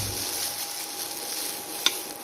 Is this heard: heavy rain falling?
no